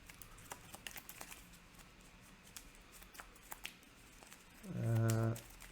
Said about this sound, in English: I'm going to shuffle the rest.